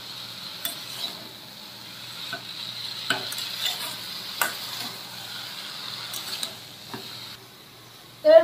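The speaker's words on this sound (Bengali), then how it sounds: "এবার আমি ভালো করে নেড়ে নেব, নেড়ে করে মিশিয়ে দেবো মশলার সঙ্গে আলুগুলো।" Potatoes being stirred with spices in a frying pan, a soft, steady sizzle broken by scattered clinks and scrapes of a utensil against the pan, ending with a sharper knock.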